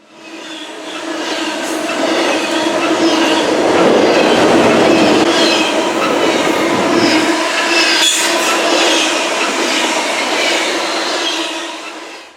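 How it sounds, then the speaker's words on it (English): A BNSF Z-CHI-DEN intermodal freight train passes on the Creston Subdivision in Iowa, a loud sustained rumble of rolling cars with clattering wheels and faint squeal, swelling in and fading out over about twelve seconds with no talk. "Z-CHI-DEN and its eastbound counterpart, the Z-DEN-CHI, carry expedited freight and parcels for J.B. Hunt, Amazon, FedEx, UPS"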